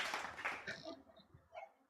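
A small congregation at a church family service gives a brief round of applause, quiet and somewhat distant, with the clapping fading out after about a second.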